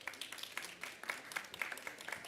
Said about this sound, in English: another round of applause for the panel.